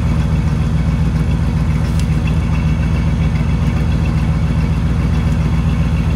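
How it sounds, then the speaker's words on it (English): Van engine idling with a slight misfire, a steady loud low rumble with a faint irregular stumble and exhaust puffing, heard alone and close throughout. "you've got a bit of a misfire"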